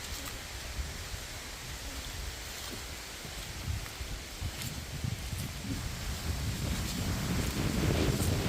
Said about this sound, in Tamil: அப்படியே ஒரு காற்று.